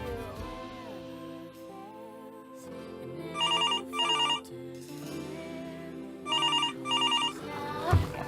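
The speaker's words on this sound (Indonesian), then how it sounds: "Kayak telepon segala lagi nih Kisha." An incoming call rings a phone in two separate bursts of repeated electronic ringing, each lasting about a second, over steady background music and faint voices.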